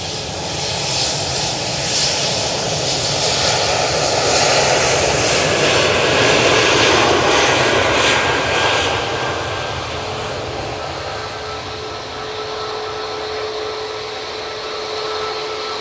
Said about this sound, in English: Qatar is on short final.